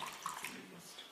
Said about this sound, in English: So all I'm doing is I'm going to just water this down a little bit.